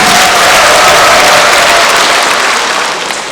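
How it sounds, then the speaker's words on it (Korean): Loud, continuous applause from a large crowd at a volunteer service awards ceremony, a thick wash of clapping that holds steady and fades slightly at the end. "오늘 수상의 연예를 나누신 모든 분들께 큰 박수를"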